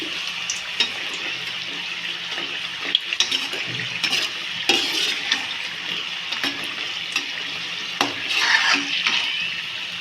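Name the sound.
snacks frying in a pan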